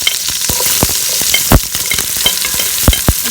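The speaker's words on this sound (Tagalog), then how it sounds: "igisa po natin yung sibuyas bawang" Onion and garlic sauté in a pan as the base for beef mami broth. A steady close sizzle runs throughout, broken by sharp scraping and clacking strokes of a stirring utensil against the pan.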